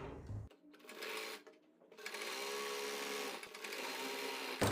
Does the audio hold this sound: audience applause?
no